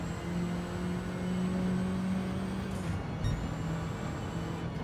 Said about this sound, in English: In fact, it's a very quiet car.